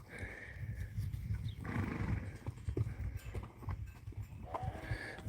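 Horses used for ProAm roping practice, some in hackamores and bridles, move about outdoors with soft hoof thuds and shuffles; quiet, fairly distant activity with brief vocal snorts.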